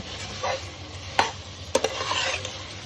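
Meat and tomato are stirred in a cooking pot while they fry with a soft steady sizzle, and a few sharp scrapes of the spoon against the pot stand out.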